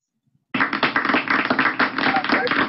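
Audience clapping hands at a Christian music class, a sudden burst of steady, dense applause that starts after a short silence and carries on evenly to the end.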